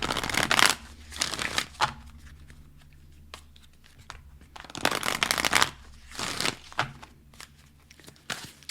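Moonology oracle cards are shuffled in several quick bursts of riffling and sliding, with quiet pauses between them, heard close and alone.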